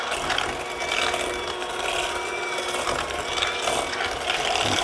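A kitchen stand mixer runs steadily with a close, continuous mechanical whirring and ratcheting gear sound while cookie dough is mixed.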